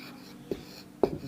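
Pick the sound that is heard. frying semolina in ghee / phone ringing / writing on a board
writing on a board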